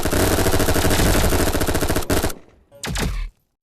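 A gun fired in a rapid automatic burst during a live demonstration, loud and close for about two seconds, followed by a short gap and one more brief burst.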